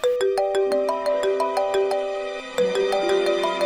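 A bright electronic ringtone melody plays loudly and steadily, a repeating sequence of clear synthesized tones with no voices.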